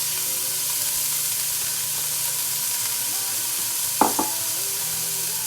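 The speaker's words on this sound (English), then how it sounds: "now I'm going to brown some ground beef and onion" Ground beef and onion browning in a pan on a stovetop for a soup, giving a steady soft sizzle throughout with a couple of sharp stirring clinks near the end.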